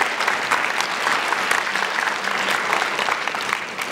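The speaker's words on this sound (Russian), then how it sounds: "давайте мы поаплодируем" An audience at a Moscow film premiere applauding, dense sustained clapping from a crowd filling the hall, even and loud from start to finish.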